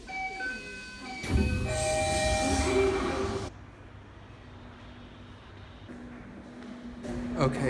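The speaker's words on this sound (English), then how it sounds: "This is the first time I'm in a Tokyo subway station." Train passing through a nearly empty Tokyo subway station, a loud rumbling roar with squealing tones for a few seconds, then dropping to a quieter hum of the platform before a brief swell near the end.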